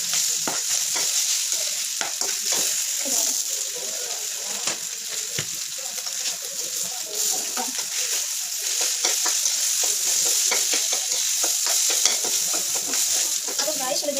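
Rice and sardines stir-fry in a pan, with a steady sizzle and repeated scraping clinks of a spatula stirring throughout, close and continuous.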